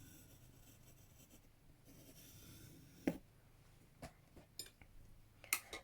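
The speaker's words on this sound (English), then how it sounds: "And draw an arc there." An old compass drawing an arc on paper for an embossed stars craft, heard as a soft, faint scratching rub, followed by several small clicks and taps near the end.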